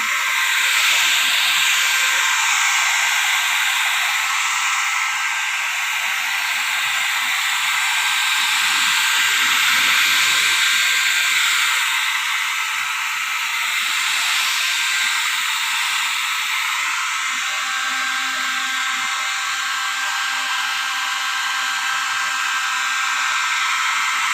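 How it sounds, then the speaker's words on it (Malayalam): A hair dryer blows steadily nearby, a loud continuous airy hiss that holds for the whole span with slight swells in volume and no speech. "ഡ്രയർ കൊണ്ട് ഉണക്കുമ്പോൾ"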